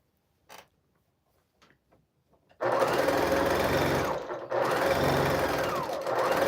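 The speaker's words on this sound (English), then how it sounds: "I'm glad that my sewing machine's a bit soothing." A few faint clicks, then a sewing machine starts up and runs loud and steady, pausing briefly before whirring on.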